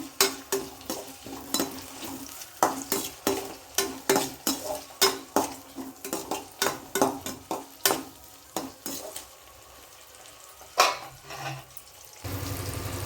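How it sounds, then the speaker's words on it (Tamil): Tomatoes being sautéed on a low flame for egg rice, a spatula scraping and stirring the pan in quick repeated strokes with a soft sizzle underneath, fairly close, then a steadier hiss near the end. "இப்போ நம்ம தக்காளியை நல்லா வதக்கிக்கிடுவோம்"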